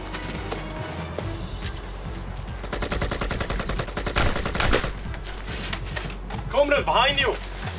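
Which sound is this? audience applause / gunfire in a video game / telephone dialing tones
gunfire in a video game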